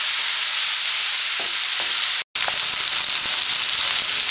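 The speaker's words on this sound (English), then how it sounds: "add 1 bowl tomato. And fry for 2 to 3 minutes." Tomatoes fry in a pan for rasam, a loud, steady hiss of sizzling oil with faint stirring taps and a brief break midway.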